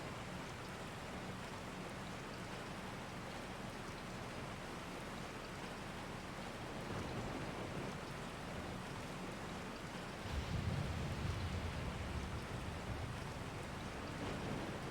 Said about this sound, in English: the rain still looks pretty effective